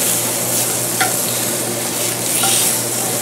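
Cajun-seasoned filet mignon sears in a hot pan with a loud, even sizzle held throughout, a couple of faint clicks surfacing near the pan, no talking.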